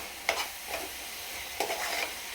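Spatula stirring milk powder into a coconut halva mixture in a pan, a few soft scraping strokes over a faint steady hiss, with no voices.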